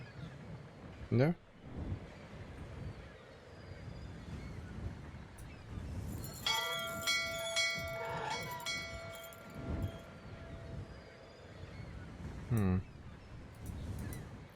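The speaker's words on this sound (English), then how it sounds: "Let's put the bell on the first chain that we found." A bell hung on a chain rings in the Syberia video game, sounding as a bright metallic clang with sustained overtones that ring for several seconds, under quiet talk.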